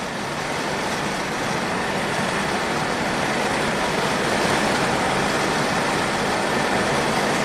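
A 1985 Oldsmobile rolls down the road with a steady, loud wash of engine and tire noise from inside the car, unbroken for the whole stretch.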